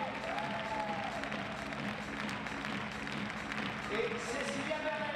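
Audience at a fencing World Cup event in Orléans applauding the fencing team, a dense, moderately faint clapping wash with crowd murmur and a voice over the public address.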